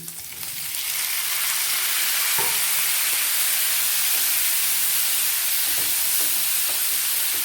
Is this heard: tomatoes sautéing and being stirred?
yes